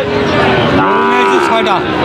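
Cattle low and moo at a livestock market where Sahiwal and Gir breed bulls are sold, a drawn-out tonal call rising and falling over steady crowd noise with people talking nearby.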